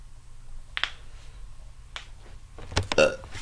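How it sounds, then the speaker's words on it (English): A few short burps break out one at a time over a quiet background, with the loudest near the end. "I'm like literally in that mood of burping. I've been burping for a while."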